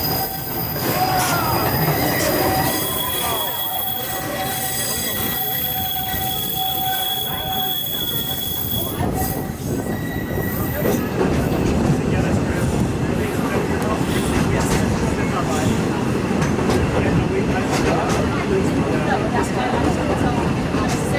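Big Thunder Mountain mine train at Disneyland rattling and rumbling along its track, with loud wheel squeal and clattering metal that build steadily, heard close up with voices in the background.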